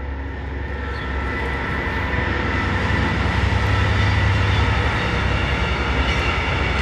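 Inside a moving passenger train, a steady, loud rumble and broadband rushing noise fill the carriage continuously, with no speech heard.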